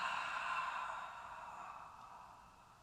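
A long, steady breath exhaled during yoga breathwork, breathy and close, fading gently over a few seconds with no talking.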